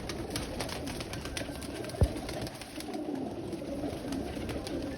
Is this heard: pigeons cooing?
yes